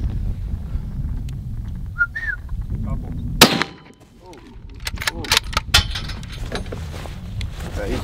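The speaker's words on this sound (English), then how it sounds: "We're going to have to shoot pretty quickly because he's not going to stop and he's going to be out of here." A single sharp, loud rifle shot rings out while hunting roan antelope on the plains of South Africa, with people talking before and after the blast.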